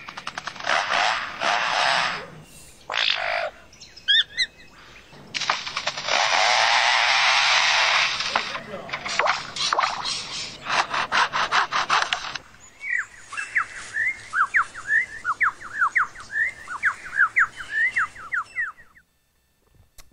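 A bird mimics the chainsaws of foresters working nearby, giving loud buzzing, revving bursts followed by a run of rapid chirping and squawking notes, close and with no talking.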